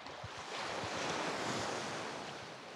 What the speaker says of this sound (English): apart from the wind and the waves